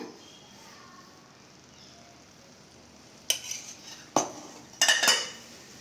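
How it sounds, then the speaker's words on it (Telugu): A spoon stirs Bombay halwa in a pan with ghee. After a quiet stretch come a few sharp, close scrapes and clinks of the spoon against the pan, spaced irregularly in the second half. "అప్పటి వరకు అలా కలుపుతూనే ఉండాలి"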